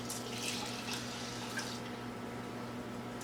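Water pours steadily into a rice cooker holding rice, a soft continuous splashing over a low electrical hum.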